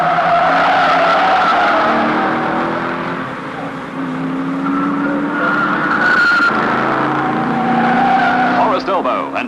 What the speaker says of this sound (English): Others, unable to slow, cannon into each other.